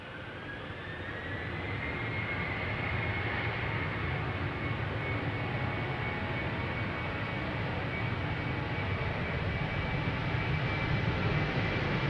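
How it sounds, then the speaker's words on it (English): A Boeing Dreamliner departing Amsterdam Schiphol Airport roars close by, the engine noise building over the first two seconds into a loud, sustained rumble with a rising whine on top, steady and unbroken to the end. "We have a Dreamliner coming this way."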